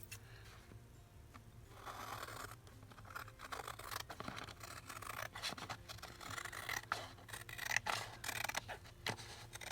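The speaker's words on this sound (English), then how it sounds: "So cut off the glue, side, top." Scissors snipping through paper while trimming a binder junk journal page, a run of close, irregular crisp cuts and rustles at a steady low level with no talk.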